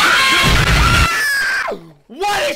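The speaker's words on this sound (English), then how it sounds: "She's shaking the earth's core with that scream." Woman screaming in a horror video game, a long, loud, sustained shriek that breaks off, then drops into descending wails and a final rising cry, close and harsh.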